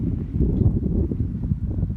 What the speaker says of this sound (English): How windy it is.